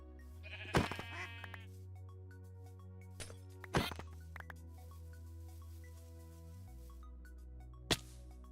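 Sheep in a Minecraft modpack world bleat a few times, short, fairly close calls spaced apart over quiet game ambience with a few faint clicks and steps.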